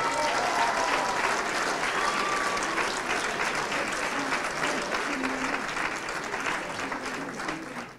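Loud, sustained applause with cheering fills a cinema hall as an audience greets an acoustic live concert, steady throughout and fading slightly at the end.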